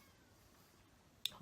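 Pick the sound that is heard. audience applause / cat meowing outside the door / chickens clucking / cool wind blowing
cat meowing outside the door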